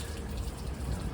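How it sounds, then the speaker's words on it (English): Water wheel turning in an old corn-grinding mill at a Birmingham science museum, giving a steady, close rush of splashing, churning water with low rumble, continuous and even throughout. "Here we are, a little example of a water wheel in action."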